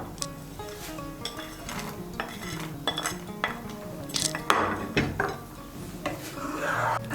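A spoon stirs fried vermicelli, cashews and raisins into milk in a pot for shemai payesh, producing soft wet swishes and intermittent clinks and scrapes of metal against the pot, fairly quiet and close.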